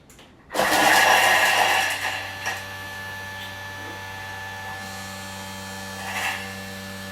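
A Thermomix kitchen machine blends cilantro and other ingredients at speed 8 with its lid locked: a loud whirring burst of about ten seconds, then a steady lower hum from the appliance.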